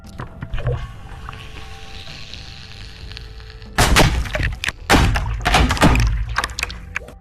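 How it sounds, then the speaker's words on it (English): A Halo Infinite explosion effect gives sharp, heavy bursts followed by wet, squelching, popping splatters. After a quieter stretch, several loud impacts come in rapid succession. "this one sounds kind of like an infection form popping, again with the wet flood-like noises that come after the explosion"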